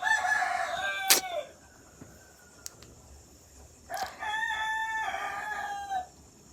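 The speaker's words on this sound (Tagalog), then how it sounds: "O nanggigising na yung mga manok." Roosters crow twice at 4 a.m., one long cock-a-doodle-doo then another after a pause, with a sharp click between, fairly close in a quiet setting.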